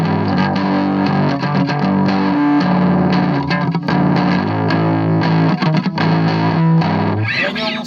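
Electric guitar through an amplifier's crunch channel, a continuous loud, distorted strummed and picked passage with steady chord changes, playing alone without talk.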